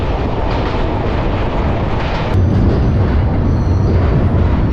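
The Saraighat Express from Howrah to Guwahati runs in a steady, loud rumble that fills the whole stretch, growing slightly louder partway through as it nears Kamakhya Junction.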